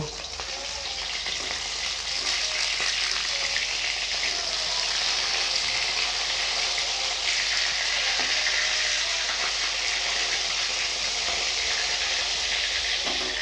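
Baul sea fish from Digha frying in hot oil, a dense continuous sizzle that stays loud and even throughout, with no speech.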